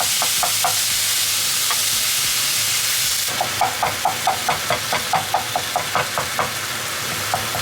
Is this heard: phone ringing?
no